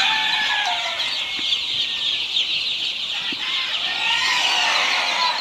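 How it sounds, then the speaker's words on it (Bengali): A large flock of Khaki Campbell ducklings on a duck farm peep and chirp in a dense, continuous high-pitched chorus that stays steady throughout, with no voices. "এই হাঁসগুলো হচ্ছে খাকি ক্যাম্বেল হাঁস ডিমের জন্য বিখ্যাত"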